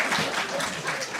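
An audience at an academic graph algorithms lecture applauds, a dense, steady wash of clapping that holds at an even level throughout the short stretch, with no voices on top.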